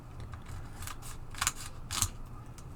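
Scissors snip open a 2023-24 Upper Deck SP hockey card pack, a few quiet crisp cuts in close, soft room hush with no voices.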